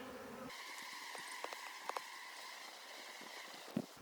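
Honey bees buzz in thin, steady drones during a beehive relocation from a water meter box, a few individual bees passing close with brief louder swells, alone without voices.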